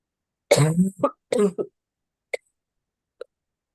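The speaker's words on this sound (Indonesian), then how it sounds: "Maaf batuk." A few short, sharp coughs close to the microphone, a burst of two followed by two quieter isolated coughs, with no talking.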